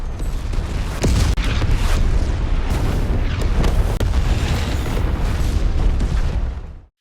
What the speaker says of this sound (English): Explosions tear across the battlefield in every direction.